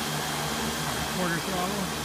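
Align M690L hex rotor motors spinning at quarter throttle, giving a steady, even whir and hum with faint tonal whine, fairly close and continuous for the whole stretch.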